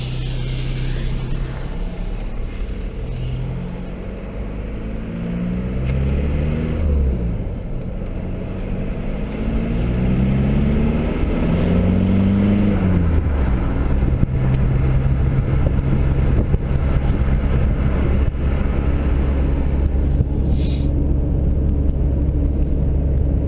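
A tuned VW ALH diesel engine pulls hard in third gear, a steady low drone whose pitch sweeps upward and rises in loudness as the car accelerates, heard close from inside the car.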